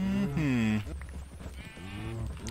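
Cows and sheep from the video game Minecraft: a loud sustained low moo-like bleat, followed by a softer second animal call and some rustling game sounds.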